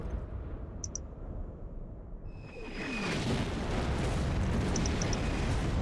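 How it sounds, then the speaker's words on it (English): Artillery fire in the war game Hidden Stroke II during the siege of Tobruk, a dense rumbling barrage of booms that swells louder about halfway through, with faint distant pops and clicks layered over the continuous low roar. "These artillery are so effective. They're very fast and they're so deadly."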